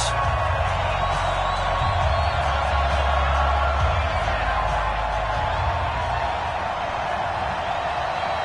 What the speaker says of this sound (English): This crowd is ready as their guys get set to match up between the Carolina Panthers and the Green Bay Packers.